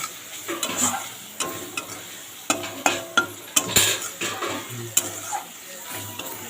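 Fish curry with meat masala being stirred and fried in a pan, a spoon scraping and clinking against the metal in repeated strokes over a low sizzle, close and fairly loud, with no voices.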